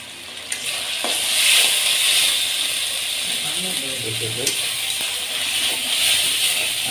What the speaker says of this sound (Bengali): তো মশলাটা অনেক সুন্দরভাবে আমরা কষাই নিচ্ছি আগে